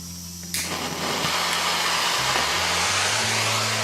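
A heat gun or torch roars steadily on a Yamaha Blaster motorcycle engine case to free the bearings, starting abruptly and holding a constant loud blowing hiss with a low hum beneath.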